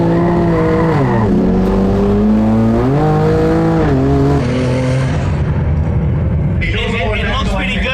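A loud drag racing car engine revs hard on a second-gear launch down the strip and climbs through the gears, whining steadily, then fades as the car races away into the distance.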